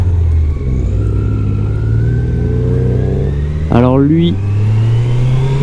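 A passing car revs its engine near a parked Kawasaki Z900 motorcycle, a rising whine over a steady loud engine drone while someone speaks French close by.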